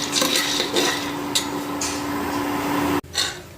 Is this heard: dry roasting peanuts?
yes